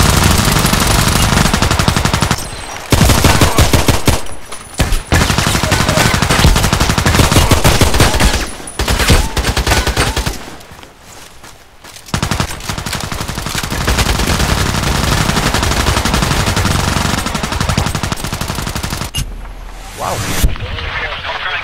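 Sustained automatic gunfire in the online shooter Contract Wars, dense rattling bursts broken by brief pauses, loud and near throughout, with overlapping shots and distant blasts.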